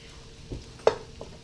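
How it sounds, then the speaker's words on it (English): A spoon works chopped, oil-packed sun-dried tomatoes into a mixture for a Mediterranean strata, giving a few soft, brief scrapes and a light clack against the bowl, close and quiet. "Stir that in."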